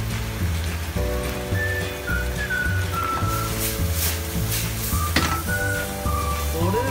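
Chicken gizzards stir-fry in a pan with a steady, loud sizzle, while utensils scrape and clink against the metal close by; a faint tonal hum runs underneath throughout.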